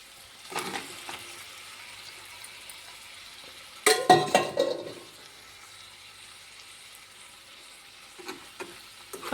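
Potatoes going into a hot pan for a potato and meal maker curry, a short burst of sizzling and stirring with scraping, then quieter frying, and a few faint clatters near the end.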